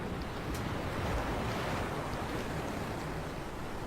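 Continuous roar of ocean waves and surf in a Roblox pirate game on turbulent seas, a dense steady wash of water noise with no talking.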